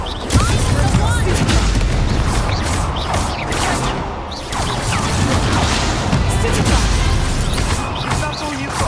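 Confringo fire spells blasting over and over in the Hogwarts Legacy video game, loud booming and crashing impacts piled up in dense chaotic combat din, with a voice speaking throughout.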